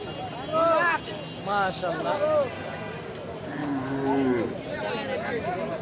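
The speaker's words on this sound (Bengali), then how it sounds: "এই যে দেখেন মাসাল্লাহ বিশাল বড় সাইজের গরু" A very large cow moos several times, loud and drawn out, amid background murmur and the busy outdoor bustle of a cattle market.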